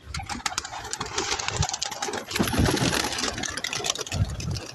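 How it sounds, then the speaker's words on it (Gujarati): Pigeons are let out of their coop, with close, busy fluttering and cooing over a steady mechanical hum, heavy wingbeat thumps in several bursts. "તો ચાલો મિત્રો હમણાં કબૂતર બહાર આવશે।"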